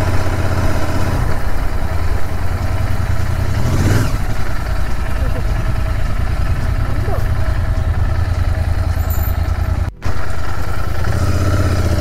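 A Royal Enfield Interceptor 650 motorcycle idles at a dam, its steady low engine rumble running loud and close for the whole stretch with a brief dropout near the end.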